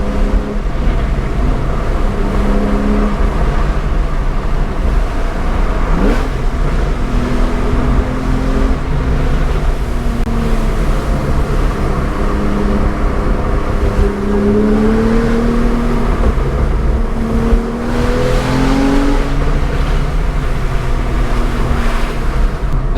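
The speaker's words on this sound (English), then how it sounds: "the little pops and crackles from the exhaust" A Porsche 911 991.1 Carrera S accelerates hard from inside the car. The engine note climbs through repeated rising sweeps between shifts over a constant road rumble, loud and close, with no talk.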